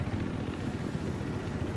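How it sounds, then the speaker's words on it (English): Enemy helicopter in the Battlefield 4 game on the Flood Zone conquest map, a steady low rotor thrum with engine whine, fairly distant and continuous for the whole stretch, no voices. "I spotted an enemy helicopter."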